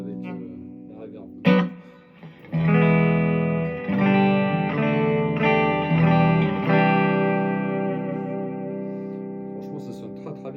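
A Sire Larry Carlton J5 electric guitar in surf green on its bridge pickup through reverb, a sharp pick attack followed by ringing chords that sustain and decay slowly in a wash of reverb, played alone.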